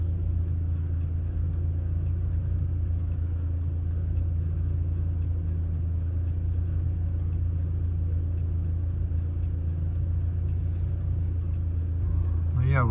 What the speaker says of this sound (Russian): Машина не может выехать.